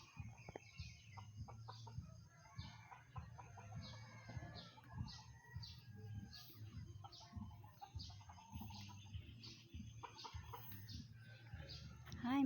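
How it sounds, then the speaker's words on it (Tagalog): Chickens cluck and chatter in short bursts, close by, with a steady low hum running underneath. "Hi mga manok."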